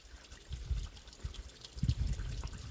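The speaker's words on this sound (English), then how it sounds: "You can see the water coming out." Water spilling out of a 1998 Bayliner boat's MerCruiser 3.0 engine during winterizing, irregular splashing and trickling in uneven bursts, close by, with no voices.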